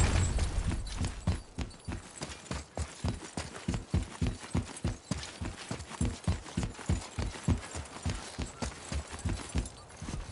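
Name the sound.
horse hooves clip-clopping in the video game God of War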